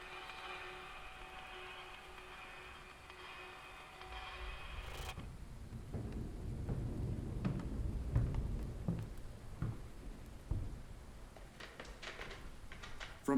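A thunderstorm brings a low rumble of thunder that swells and rolls for several seconds over a steady hiss of falling rain, moderately distant.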